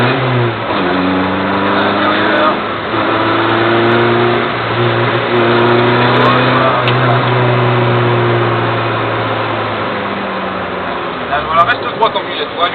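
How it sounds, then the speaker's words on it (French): A car accelerates hard out of a bend on a circuit, the engine note rising through a long rev sweep, easing briefly and then climbing again, loud and close with a continuous drone. "on commence à débraquer et on vient accélérer"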